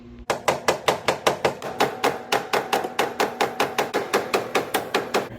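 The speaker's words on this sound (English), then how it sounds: "I'm going to start soft with the rubber mallet." A rubber mallet strikes a pin on a bowling pinsetter pulley in a steady, even series of about twenty close, sharp knocks, each with a short ringing decay, with no talking.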